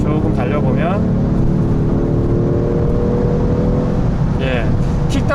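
A Genesis G70 with a 3.3 twin-turbo V6 accelerates on kickdown, its loud, steady engine drone and rising tonal whine filling the cabin while a person talks over it.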